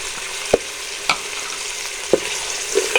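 Peas and chopped carrots frying in a pan for chicken corn soup, a steady close hiss of oil with four brief spatula taps spaced unevenly.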